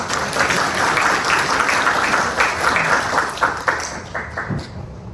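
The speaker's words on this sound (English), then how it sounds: "Let's give ourselves a big round of applause." Loud, dense applause from a conference audience, many hands clapping continuously before tapering slightly at the end.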